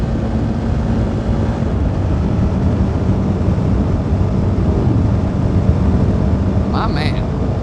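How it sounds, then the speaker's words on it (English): Strong wind roars steadily across the microphone while riding a CFMoto 300NK motorcycle on a country road in Pennsylvania, a loud, constant rush that buries the engine. "the wind is bonkers"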